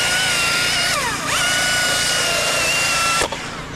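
A chainsaw revs loud and close while cutting a branch high in a tree, its whine dipping and climbing before it cuts out abruptly as the chain comes off.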